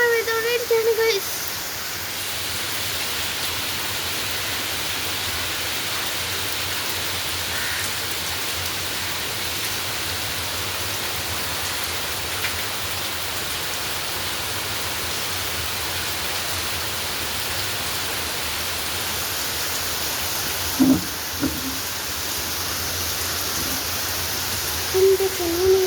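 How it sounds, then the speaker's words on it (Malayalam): Heavy rain pours down in a steady, dense hiss that holds for the whole stretch, with a few brief faint voices and knocks briefly rising above it. "ഇത്ര നല്ല മഴ പെയ്തോണ്ടിരിക്കുകയാണ്"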